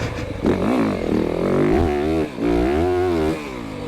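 A 2025 Yamaha YZ450FX dirt bike engine revs hard under throttle, close and loud, its pitch sweeping up and down through several blips with a brief dip between bursts.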